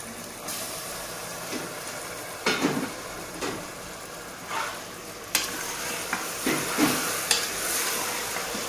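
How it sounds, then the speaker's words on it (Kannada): Mutton pieces fry with tomato in a pan, giving a steady low sizzle broken by several louder scraping stirs of a spoon, close and fairly quiet, with no talking. "ಇವಾಗ ಮಟನ್ ಟೊಮೆಟೊ ಜೊತೆಗೆ ಇದು ಸ್ವಲ್ಪ ಫ್ರೈ ಆಗಬೇಕು."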